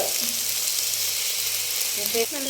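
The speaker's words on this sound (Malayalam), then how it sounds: "നല്ലോണം പൊരിഞ്ഞോണ്ടിരിക്കാൻ ഒരു സൈഡ് മറിച്ചിട്ട് രണ്ട്" Fish frying in a pan with black pepper and green chilli, a steady close sizzle throughout with faint talk near the end.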